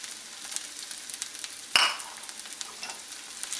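Sliced peppers dropped into a hot pan with garlic give a steady soft frying sizzle, with one brief louder clatter and surge as they land, then a continued crackling hiss.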